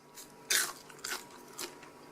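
Crispy air-fried Brussels sprouts get bitten and chewed up close, three sharp crunches spaced about half a second apart, quiet and alone.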